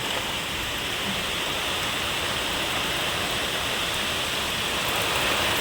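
Heavy, slanting rain pours down in a garden, making a dense, unbroken rushing hiss that stays close and loud throughout.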